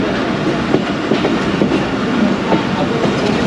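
The Karachi Express pulls slowly out of Kotri in flood-hit Sindh, giving a loud, steady rumble of wheels and carriages close by with faint rhythmic clatter and no speech.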